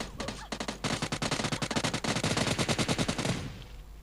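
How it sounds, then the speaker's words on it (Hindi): Rapid automatic gunfire in the video game PUBG Lite, a fast rattling burst of dozens of close, loud shots in a tight rhythm after a few single shots, ending with a brief tail. "अब आपने फायरिंग की आवाज़ तो सुनिए"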